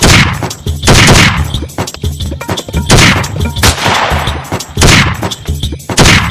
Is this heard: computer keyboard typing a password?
no